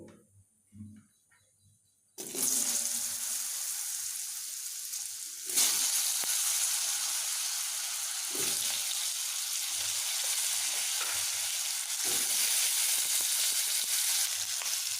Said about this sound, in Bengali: এখানেই আমি কেটে রাখা আলুগুলোকে এখন ভেজে নেব